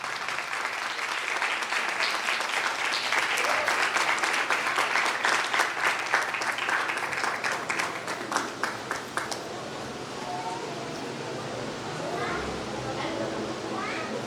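Audience applause at a children's prize distribution for Resurrection Day, a dense, steady clapping crowd over the first nine seconds that thins out, with a voice and chatter continuing afterward.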